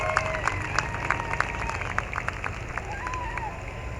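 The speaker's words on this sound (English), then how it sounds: "Big round of applause for all the Prairie Pulling League superstars." Scattered applause from a crowd at a tractor pulling event, a patter of claps spread across the few seconds over a low background rumble.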